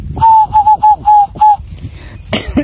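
Several short, clear whistled coos mimic a zebra dove's call in quick succession, close and loud, followed by a rustle and a brief clatter.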